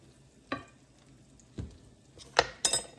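Oil sizzling in a pan as food is basted during home restaurant-style cooking, with a few brief spoon scrapes and clinks spaced apart over a quiet, faint background.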